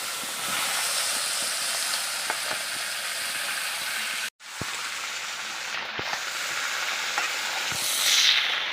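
Young ash gourd sizzles in hot oil, a dense, even frying hiss held close and steady, briefly cut off for a moment midway, with a few faint knocks and no speech.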